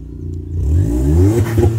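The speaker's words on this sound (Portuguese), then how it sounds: "Acho que já dá para dar uma aceleradinha, né?" A Volkswagen up! TSI with a stage 2 tune, oil at about 41 degrees, revs up close by in a short, rising surge of engine roar.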